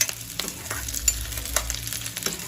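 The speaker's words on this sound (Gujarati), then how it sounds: "સરસ રીતે એને સાતળી લઈશું તેલમાં" Pizza sauce ingredients sautéing in oil in a pan on a tawa stovetop, a steady close sizzle with occasional scraping stirs and soft clicks, no voices.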